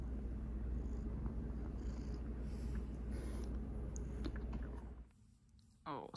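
A cat purrs in a steady, close, rumbling drone for several seconds, then it stops and a voice speaks quietly.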